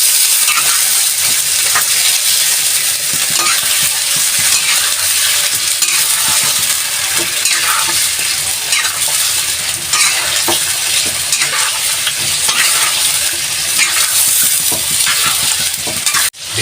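Asado stirred in a pan with tomato paste, a steady scraping stir over a continuous loud sizzle that runs unbroken throughout, with no voices.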